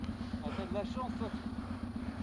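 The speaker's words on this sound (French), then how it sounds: "Je donne un petit coup de guidon, la moto, elle réagit tout de suite." Off-road motorcycle ridden on a trail, its engine a steady mid-pitched drone with rhythmic pulsing, close by, while someone talks over it throughout.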